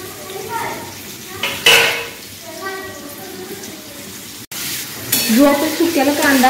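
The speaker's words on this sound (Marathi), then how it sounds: "तेल तापल्यानंतर आपण त्यात कांदा घालायचा" Onion dropped into hot oil for a mutton biryani starts a loud close sizzle with pan clatter and a sudden burst of hissing near the end, a voice talking briefly underneath.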